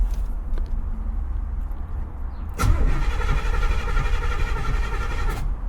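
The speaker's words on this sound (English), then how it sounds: "let's just see if it'll crank over" A Toyota FJ40 that won't start cranks over: quiet ambience, then a sudden loud cranking burst with a steady rapid chug for about three seconds before it stops, close by.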